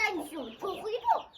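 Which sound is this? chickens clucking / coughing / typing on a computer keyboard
chickens clucking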